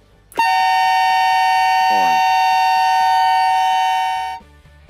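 Air horns in an anti-theft package alarm, housed inside an enclosure, blast abruptly into a loud, steady, piercing tone. The tone holds for about four seconds, then cuts off.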